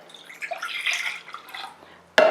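Two cups of water poured into a pot as the base of a pickling brine for crunchy dilly beans: a steady splashing, gurgling stream, close and moderately loud, ending with a sharp knock or clink.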